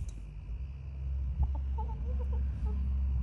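Soft, short clucks from a few chickens come in small clusters over a steady low background hum.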